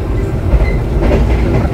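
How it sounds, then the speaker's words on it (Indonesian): Passenger train of the Kalikung service pulling out of Weleri station, heard from on board as a steady low rumble with rhythmic wheel clatter throughout, fairly loud and continuous with no talk. "Perjalanan naik kereta api Kalikung sudah meninggalkan stasiun Weleri"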